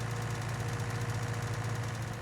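A tractor engine idles steadily in Farming Simulator, a constant low rumbling drone with an even, throbbing pulse and no other sounds over it.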